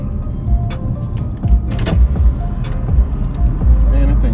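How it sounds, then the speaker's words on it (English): An RC car, likely a Traxxas E-Revo, racing across a Dodge, Jeep and Chrysler dealership, its electric motor whining and revving in short bursts over a few seconds, fairly close, with no talk over it. "he's racing his RC car in there, ripping it across there"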